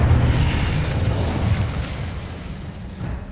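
An Incendio fire spell in the Hogwarts Legacy video game bursts out as a loud, rumbling whoosh of flame that fades away over a few seconds, heard alone with no talk over it.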